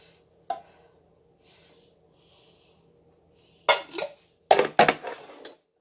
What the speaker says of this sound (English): So I'm just going to go ahead and dump this all in one big pan.